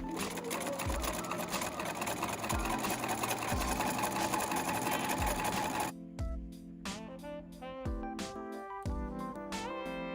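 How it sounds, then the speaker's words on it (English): A sewing machine understitches a seam allowance to a garment lining, whirring in a loud continuous run for about six seconds, then slowing into a series of separate stitching bursts and clicks. "understitch the seam allowance to the lining"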